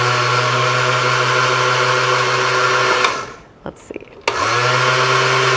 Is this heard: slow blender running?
yes